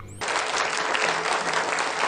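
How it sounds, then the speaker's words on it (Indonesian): A theatre audience bursts into loud applause after a stage performance in a Japanese film. The clapping is dense and sustained for about two seconds and begins abruptly after a brief quiet moment. "mendengar tepuk tangan meriah dari penonton"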